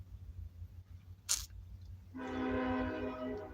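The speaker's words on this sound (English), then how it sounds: "Ooh, train." A train horn blares in a sustained, steady tone that starts partway through, loud and fairly close, after a brief sharp click and low rumbling background noise.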